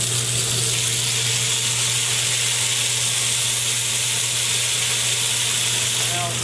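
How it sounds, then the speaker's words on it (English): Mushrooms and processed garlic sizzling in olive oil in a sauté pan, heard as a loud, continuous close hiss with a steady hum underneath. "I'm probably going to put maybe a couple of these mushrooms in this saute. I'm just going to add them in and around."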